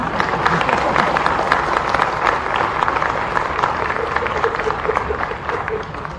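A crowd at Chief Minister Dr. Mohan Yadav's event in Bhopal claps in dense, sustained applause lasting several seconds, with voices mixed underneath.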